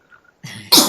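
A single close sneeze: a quick sharp intake followed by an explosive, noisy burst that trails off.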